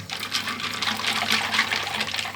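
Running water splashes steadily over batteries being rinsed under a warm tap, a close, continuous broadband rush of trickling and spattering with no talk.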